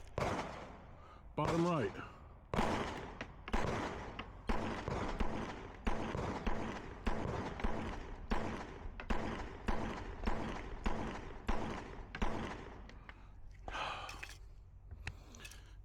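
A Smith & Wesson M&P 2.0 Carry Comp compensated pistol fires a long string of sharp, evenly spaced gunshots, about a dozen and a half loud reports at an outdoor range, with a brief spoken remark near the end.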